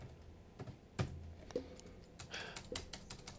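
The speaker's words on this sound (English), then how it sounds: "we can type in" Keystrokes on a computer keyboard while entering commands to install software on a Raspberry Pi, a quiet run of soft clicks in uneven bursts, with a few sharper taps standing out.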